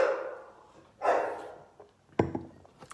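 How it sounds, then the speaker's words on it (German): A pet dog barking indoors, three separate barks about a second apart, the first two longer and more tonal, the last a sharper yip, fairly near and with no talk. "Ich gehe gleich mit meinem Hund ein bisschen Gassi. Ihr hört ihn wahrscheinlich schon, der meldet sich gerade schon."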